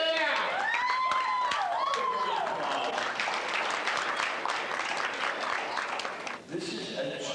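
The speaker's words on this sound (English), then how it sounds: "One more round of applause, please" Sustained crowd applause and cheering at a tattoo convention prize ceremony, with whoops and shouts over dense clapping, dipping briefly near the end before picking up again.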